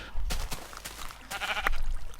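Sheep in the video game Minecraft give a few short, close bleats in quick succession, with brief gaps of quiet between them.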